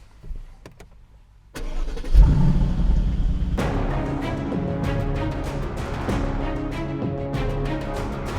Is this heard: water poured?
no